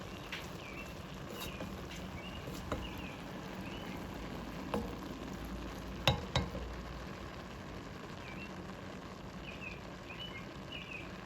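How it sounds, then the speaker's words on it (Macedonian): Chopped eggplant and cabbage stew in a pan with a soft, continuous sizzle, broken by a few sharp utensil clinks and faint bird chirps in the background. "Сега заедно тоа уште малку го подинстаме."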